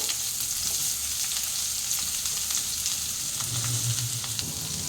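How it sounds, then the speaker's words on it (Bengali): Long-sliced onions fry in hot oil with bay leaves, a dense continuous sizzle that stays close and even throughout, with no voices. "এই পেঁয়াজগুলোকে হালকা ব্রাউন আমি ভেজে নেব"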